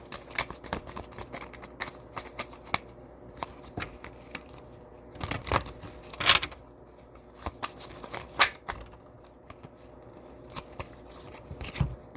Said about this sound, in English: I'm going to use some of my Woodstock cards.